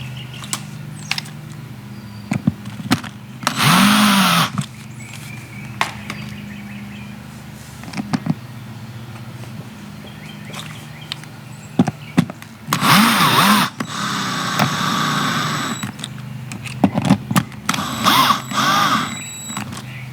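A screw gun drives screws into a truck camper in short, loud whirring bursts that rise in pitch, spaced apart, with small clicks and handling knocks between them.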